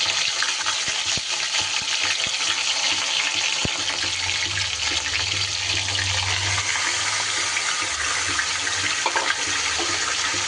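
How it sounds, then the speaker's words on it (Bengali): Marinated chicken dropped into hot oil tempered with a cracked dried red chilli, setting off a loud, continuous sizzle with a few sharp clicks and a rumbling swell in the middle. "এইবার মেরিনেট করে রাখা চিকেনগুলো দিয়ে দেব"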